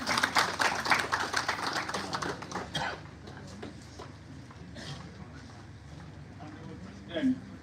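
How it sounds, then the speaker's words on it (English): Applause from the audience at a university event, a dense burst of clapping that fades after about three seconds into scattered claps and murmuring, with a final short clap near the end. "Give a huge round of applause, please."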